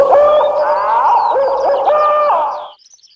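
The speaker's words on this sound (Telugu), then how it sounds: "గుడ్లగూబ అరుపులా వినిపిస్తుంది." Cartoon owl hooting in an animated children's story, a loud, close, sustained wavering call held for nearly three seconds, then cut off abruptly with a few faint trailing sounds.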